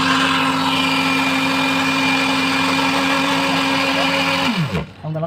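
Electric hand mixer whisking oil-based chocolate cake batter, a steady loud whirring drone that holds for several seconds, then winds down in pitch as the motor is switched off near the end.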